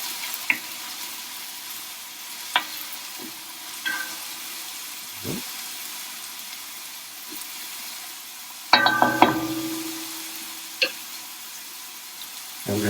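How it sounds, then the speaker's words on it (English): Onions sautéing in a pan for marinara sauce give a soft, steady sizzle, broken by occasional clinks and scrapes of a spoon and a louder clattering burst partway through. "the first thing is, of course, always sauteing off the onions and getting them nice and brown"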